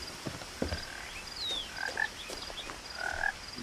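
Frogs croak in the video game What Remains of Edith Finch: scattered, fairly faint croaks and chirps from several frogs against a quiet ambient bed, with one higher sliding call partway through.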